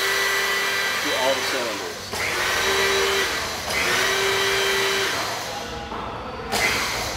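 A hydraulic pump retracting on a synchronized lift system, sending low-pressure oil to its cylinders, running as a steady broadband whir with a few shifts in pitch and level, and a voice talking over it.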